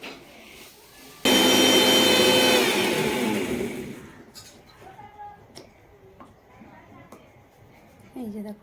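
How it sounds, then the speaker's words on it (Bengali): A kitchen mixer grinder whirs loudly as it blends tomatoes and cashews into a paste, one sustained high-pitched motor run of a few seconds that winds down into quieter kitchen clatter. "এবার আমি এর মধ্যে মিক্সির মধ্যে দিয়ে দেবো হচ্ছে টমেটো আর হচ্ছে কাজু"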